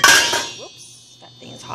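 A lid set onto a soup pot, with a loud metallic clank and ringing clatter at the start that fades into quieter faint scraping, close by.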